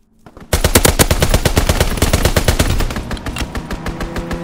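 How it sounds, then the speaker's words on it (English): Dense rapid-fire strafing run in a Call of Duty: WWII match, a sudden burst of loud, tightly spaced gunshots that hammers on for several seconds before easing slightly. "Strafing run inbound."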